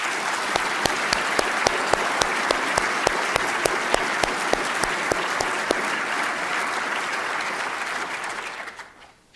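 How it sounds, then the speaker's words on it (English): An audience at an engineering academy induction ceremony gives sustained, loud, steady applause for the staff, many hands clapping evenly for about eight seconds before it fades out at the end. "We all owe them a great round of applause"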